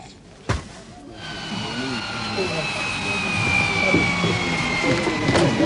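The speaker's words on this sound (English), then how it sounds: "The coming and going of aircraft is now an everyday matter, a country bus service." A light aircraft arrives at a remote community airstrip, its engine drone building steadily and holding loud and near throughout, with a soft thump at the start and a voice briefly heard beneath.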